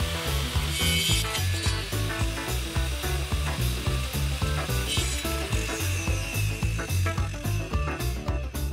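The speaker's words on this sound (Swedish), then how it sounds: "Och geringssåga." A mitre saw cuts through wooden decking boards for a patio build with a steady, dense rasping roar lasting throughout, close and loud with no voices.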